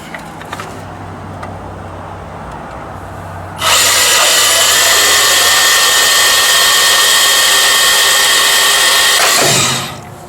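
A Milwaukee Fuel 2729 cordless band saw cutting and notching steel pipe, a loud, steady whine with grinding that starts abruptly, holds for about six seconds, then winds down, after a quiet stretch of low background hum.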